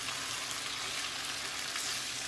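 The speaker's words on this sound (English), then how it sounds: "It only takes a couple minutes for the shrimp to cook." Shrimp frying in a pan for garlic shrimp pasta, heard as a steady, soft, even sizzle close by with no voices.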